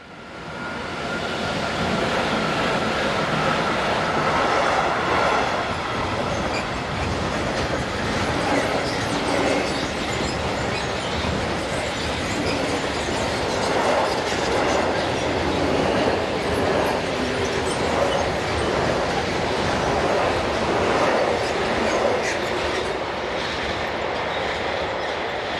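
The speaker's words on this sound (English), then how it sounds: "Three Class 185s were in charge of the next train" A freight train hauled by three Class 185 electric locomotives in Germany rolls past, a loud continuous rumble with rhythmic wheel clatter throughout.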